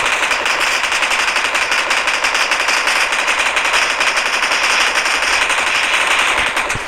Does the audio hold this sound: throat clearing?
no